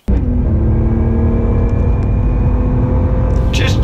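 A BMW E46 330i fitted with a Direnza performance exhaust rumbles steadily close by, a deep continuous engine drone with a brief rise in revs near the end.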